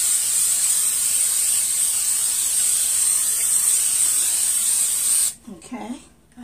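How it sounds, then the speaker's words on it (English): Pam cooking spray hisses onto a baking pan in one long continuous burst lasting about five seconds, then cuts off, leaving faint handling noise. "so you just spray your pan."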